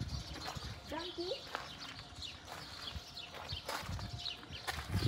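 A donkey's hooves clip-clop on the ground in an old heritage village in Kuwait, a loose run of light knocks. Birds chirp faintly nearby and voices can be heard in the background.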